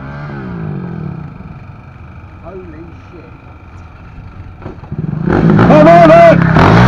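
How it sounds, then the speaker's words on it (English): KTM 1290R motorcycle engine during a dead-engine wheelie, quiet at first with muffled background noise, then a loud revving surge near the end as the engine fires up again, with voices shouting over it. "he's going to attempt a dead engine wheelie. So kill the motor when in the vertical position"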